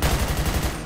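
Rapid burst of gunfire in GTA 5 roleplay, a steady run of close, loud shots repeating in quick rhythm for under a second, with no talk over it.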